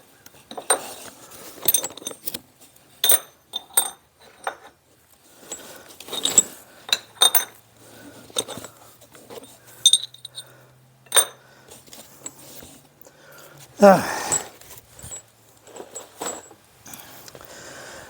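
Loose metal bolts for a 16-foot car hauler trailer's equalizers clink and rattle in a scattered series of bright, close metallic taps, with a brief louder clatter near the end.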